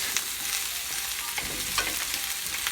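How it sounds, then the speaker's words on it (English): Shakshuka ingredients sautéing in a Lodge cast iron skillet: a continuous close sizzle with a few soft stirring knocks and scrapes. "This is a saute process"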